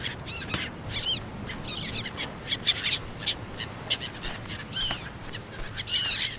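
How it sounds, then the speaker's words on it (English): Seagull calls echo through the island survival game Stranded Deep, a run of short, bright, wavering cries arriving in bursts over a steady low ambient wash of wind and surf. "Those still seagulls? I guess they are."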